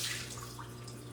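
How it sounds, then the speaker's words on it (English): Soaking water drains off a batch of dates into a sink, a soft steady trickle and drip with light splashing, close by and continuous without talk. "I am going to drain the water out of them."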